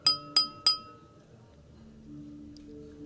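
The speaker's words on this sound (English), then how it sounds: "the crisp sound of clinking glasses captures everyone's attention" Glasses clink at a banquet aboard a ship in the video game Love and Deepspace. Three crisp, bright clinks come in quick even succession, each ringing briefly, followed by a quiet low hum.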